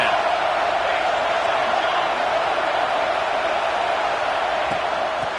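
Football stadium crowd at a college game roaring in a sustained, loud wash of cheering and noise, steady throughout with no distinct breaks.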